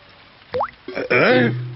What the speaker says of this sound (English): Daddy Pig is using a bucket to catch the drips.